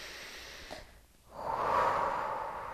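A person demonstrates deep, relaxed breathing. A short snort-like intake is followed by a pause, then a long, airy exhale swelling up close.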